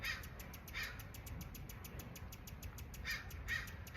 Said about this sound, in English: there's a crow probably 50 feet away from me agreeing also